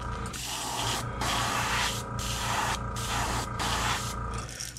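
Airbrush hissing out black paint onto a crankbait lure, steady spray broken into four bursts separated by short pauses, close and fairly loud, with a low mechanical hum underneath.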